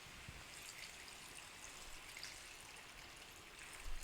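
Water trickles and pours steadily into a chicken curry pan with green pepper, a soft continuous splashing stream lasting a few seconds, faint and close, with no talking.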